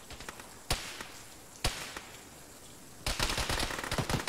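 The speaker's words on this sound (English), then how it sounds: "Somebody's shooting at us." Gunfire in the military game Arma, a few sharp distant single shots followed by a quicker rattling burst, fairly faint with no talk over it.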